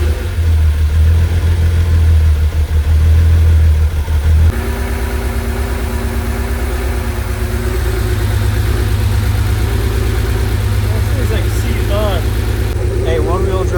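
An abandoned Porsche 911, brought back to running after a faulty MSD ignition unit, idles nearby with a steady mid-low rumble and a slight change in pitch partway through, while people talk over the engine.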